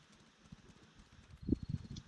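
Horse hooves clip-clopping in the video game Where Winds Meet, a quiet run of soft rhythmic hoof taps that grows louder toward the end.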